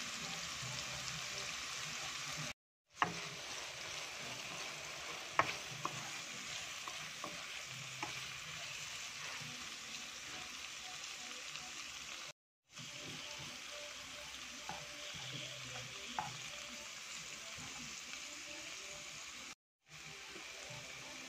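Sliced bitter gourd frying and being stirred in a pan, a soft continuous sizzle with occasional scrapes and clicks of the utensil, faint and steady with brief gaps.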